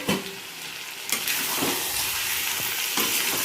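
Chicken curry with fried potatoes sautéing in a pan, a dense hissing sizzle that swells louder after the first second, with a few soft stirring knocks underneath.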